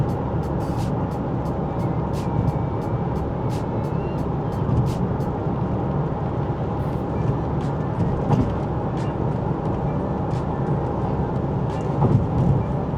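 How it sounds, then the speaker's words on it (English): A constant low rumble of road and wind noise inside a 2011 Opel Insignia at 130 km/h, steady throughout, with occasional faint clicks and ticks. "now let's hear the noise inside the car"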